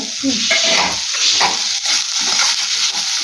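Mint leaves fry in a hot pan for a grandmother-style farm chicken sambar, a loud steady sizzle broken by repeated scraping stirs of a spoon against the pan, with no talking.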